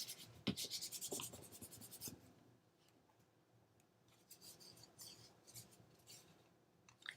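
Cardstock for a slide card is folded over and creased by hand, with quiet papery rubs and scrapes in short bursts and a faint, close brush of paper between them.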